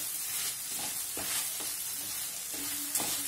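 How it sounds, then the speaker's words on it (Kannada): Okra frying with turmeric in a pan for bendi baji, a steady sizzle with several soft stirring scrapes and clinks spread through it, close and alone without voices. "ಅರಸಿನ ಹಾಕಿದ್ಮೇಲೆ ಚೆನ್ನಾಗಿ ಇದೆಲ್ಲ ಫ್ರೈ ಮಾಡಬೇಕು"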